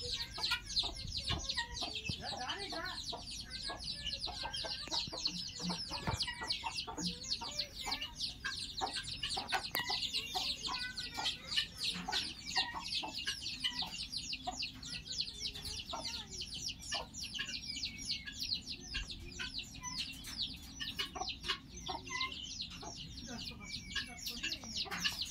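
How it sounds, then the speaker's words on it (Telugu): Country chickens cluck busily on a small farm, a dense run of short calls and scratchy bursts that goes on without a break, fairly close and lively, with a speaking voice occasionally mixed in. "ఇవన్నీ కోళ్ళు, నాటుకోళ్ళు చూడండి"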